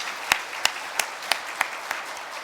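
A church congregation claps together in steady unison, about three claps per second, each clap sharp and close against a quiet room, with no talking.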